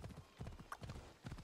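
A horse's hooves in Assassin's Creed Odyssey clop in a steady walking rhythm, soft and close, with a brief higher sound partway through.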